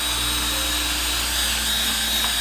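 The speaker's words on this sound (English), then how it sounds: "So use your drill brush, or just any sort of little brush." A drill-powered brush scrubs a car's interior with a steady, even whirring hum that holds level throughout, close and moderately loud with no talking over it.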